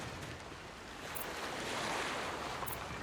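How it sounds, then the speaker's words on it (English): Sea waves in the Lost Rift survival game, a continuous rushing surf wash with a windy hiss, swelling slightly midway, quiet and alone without speech. "All I can hear is the sea"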